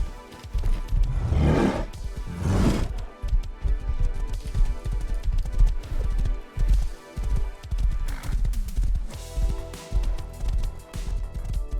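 Horse hooves clip-clop in the video game Rust, a loud, close, uneven run of beats that pauses briefly a few times and carries on throughout.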